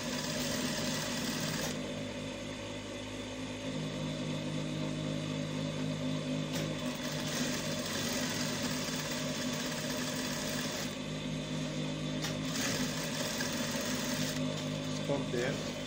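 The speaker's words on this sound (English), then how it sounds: "So this is how you sew down to the arm hook, down to the shoulder." A sewing machine stitches a kimono jacket with a steady, continuous mechanical whir. It pauses and restarts now and then, and a person talks over it.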